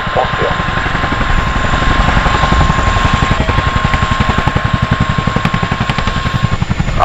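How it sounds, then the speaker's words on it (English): A Chinook twin-rotor helicopter manoeuvres at the RAF Cosford air show, its loud rhythmic blade slap beating steadily and strengthening under a constant turbine whine, with a commentator talking over it. "manoeuvre the aircraft forward and down away from the load"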